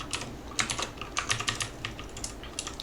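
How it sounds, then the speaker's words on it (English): Rapid keystrokes on a computer keyboard, a close, steady run of light clicking taps with brief pauses, no voice. "I'll type that right in here."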